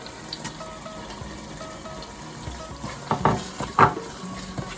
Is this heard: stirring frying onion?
yes